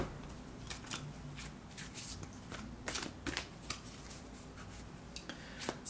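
Oracle cards are shuffled close by in a quiet room, with soft repeated riffling and flicking bursts over a low steady hum.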